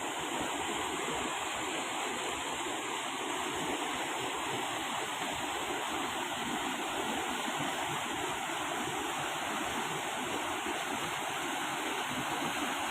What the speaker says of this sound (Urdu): پہاڑوں کے درمیان یہ چھوٹے چھوٹے جھرنے بناتا ہوا پانی